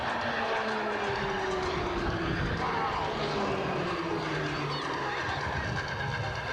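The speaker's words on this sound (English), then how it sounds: "you can see the two aircraft there crossing path low level with a lot of closure" Roulettes display aircraft crossing paths at low level with high closure at an air show, a steady droning engine tone with slowly sliding pitch, distant and continuous beneath a commentator's voice.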